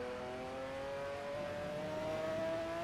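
A race car engine in the Assetto Corsa driving game, played in VR on a sim rig, holds a steady high whine with its pitch slowly climbing for a few seconds, loud and continuous with no talk.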